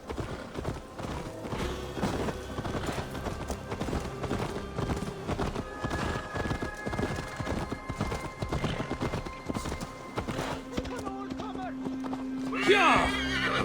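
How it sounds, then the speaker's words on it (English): Hooves clip-clop in a steady rhythm and a horse whinnies in the video game Assassin's Creed Valhalla, layered with game music and character voices talking throughout. "Let's return the horse."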